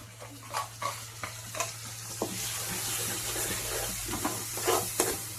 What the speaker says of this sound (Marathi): याला मंद गॅसवर आपल्याला तेल सुटीपर्यंत मसाला परतून घ्यायचा आहे.